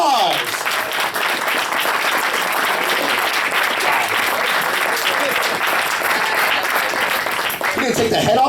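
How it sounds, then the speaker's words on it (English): A crowd at a Midwest Furfest voice acting convention panel applauds loudly and steadily for several seconds, dense clapping that swells again near the end. "Give him a round of applause!"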